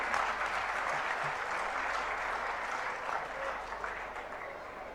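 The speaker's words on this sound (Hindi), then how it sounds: "सबकी जोरदार तालियों के मध्य।" Loud, sustained applause from a gathering at a Jain religious discourse with Sudha Sagar Ji Maharaj, a dense even wash of clapping that continues steadily for five seconds.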